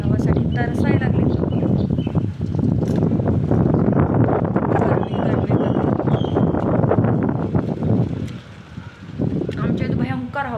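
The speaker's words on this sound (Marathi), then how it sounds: "हे बघा कसले पडदे उडायला लागले" Strong, gusty wind rushes through the windows of a home in Pune and sets the curtains flapping. A loud, steady roar of wind noise runs throughout while a person talks over it.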